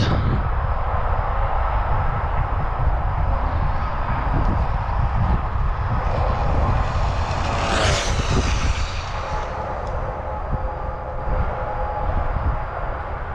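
A Traxxas Bandit VXL RC car on a 3S battery with 48-pitch gearing makes a speed run, giving a continuous loud rushing roar with a high whine that sweeps up and falls away near the middle.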